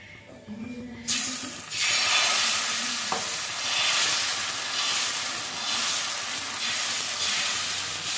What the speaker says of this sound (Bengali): বেগুনটা দিয়ে আমি এখানে তেল ব্রাশ করে নিচ্ছি